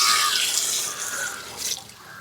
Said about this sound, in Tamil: தண்ணி இன்னும் கொஞ்சம் ஊற்றுங்க